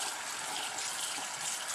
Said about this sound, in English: let's put in some fresh water